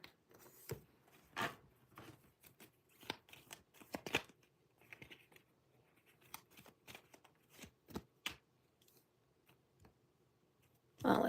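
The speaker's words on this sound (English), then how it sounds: "let me shuffle a little bit better" A deck of cards being shuffled in bursts of quick crisp riffles and flicks, close and fairly quiet, with pauses between each pass and no talking.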